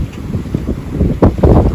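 Strong wind buffeting a sailboat on a Norwegian fjord, a rough, gusting roar with microphone rumble that swells louder toward the end, no voices.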